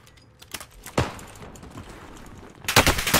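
M13 rifle in Warzone Pacific firing short bursts, with a few scattered shots early on and a sharp, loud rapid volley near the end, no talk over it.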